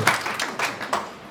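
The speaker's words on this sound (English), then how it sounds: "Clap for Paul Future." An audience at a Rotary club president installation in Bungoma gives a brief, moderate round of clapping, a few distinct claps sounding at medium distance before it fades.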